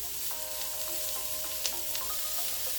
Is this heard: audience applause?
no